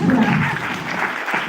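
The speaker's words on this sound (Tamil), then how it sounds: "அது கைத்தட்டணும்." An audience claps at a state-level sports coaches training camp, a short stretch of steady hand-clapping with voices mixed in underneath.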